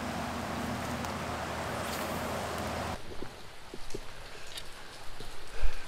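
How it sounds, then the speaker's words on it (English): Rain falls outdoors by a riverbank during bank fishing: a steady loud hiss of rain that abruptly drops to lighter, scattered drops and patters. "Well, got a little rain coming down."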